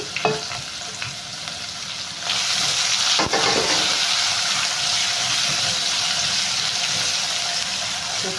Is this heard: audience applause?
no